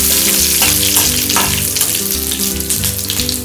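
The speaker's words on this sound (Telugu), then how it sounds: "ఆయిల్ వేడైంది ఇందులో శనగపప్పు వేస్తున్నాను" Chana dal frying in hot oil for idli upma, a steady loud sizzle with crackling that runs throughout, plus a few stirring clatters.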